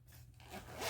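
A zipper on a combined wallet and tool pouch, fitted with small pull dangles, is drawn closed in one quick, close, rising scrape that grows louder toward the end.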